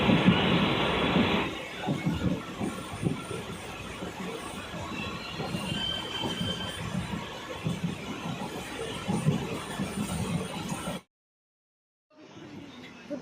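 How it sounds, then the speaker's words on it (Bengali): A passenger train pulls away, heard from a window seat inside a nearly empty carriage: a continuous rolling rumble and rattle with a brief louder stretch at the start. Near the end it cuts to silence before faint noise resumes. "তো ট্রেন ছেড়ে দিয়েছে দেখলে"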